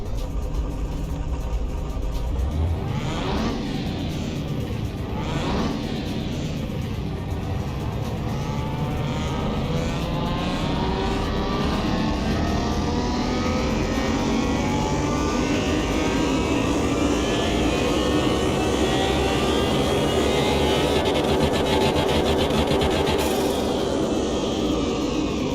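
A car engine in Car Mechanic Simulator 2021 revs steadily on a dyno, holding a loud, continuous drone with rising and falling pitch sweeps throughout.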